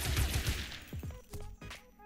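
Gunfire at police in the M2 Grand Auto Racing mobile game, a loud rapid burst of shots fading into a few sharper, separate cracks, with no talking over it.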